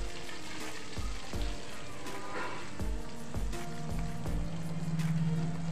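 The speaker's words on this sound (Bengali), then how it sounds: "মাছগুলো তেলে দিলেই কিন্তু ফাটতে শুরু করে দেয়" Pieces of boal fish fry in hot oil, a steady close sizzle with sharp popping crackles and occasional spatters, continuous and without talk.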